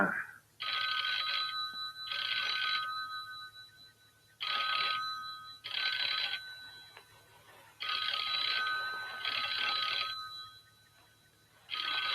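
An old telephone bell rings in repeated double bursts, three pairs separated by short pauses, loud and close with no voices over it.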